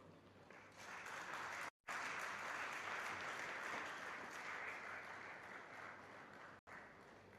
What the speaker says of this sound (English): Ladies and gentlemen, I want you all to applaud with a lot of love for the AV on Sri Bomidala Bhanumurthy Garu.